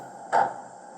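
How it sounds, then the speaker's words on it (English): A sound-fitted O gauge Class 09 model locomotive plays a single short cab door slam, one dull knock that rises abruptly and fades within a moment. "5 we've got cab door slam."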